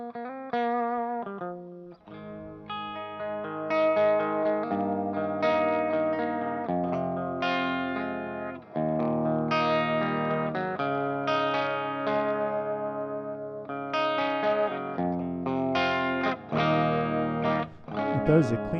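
Electric guitar played through a Fractal AX8 multi-effects unit on a Plexi 100 amp preset, giving a continuous distorted tone with sustained chords and melodic runs, loud and steady with no talking.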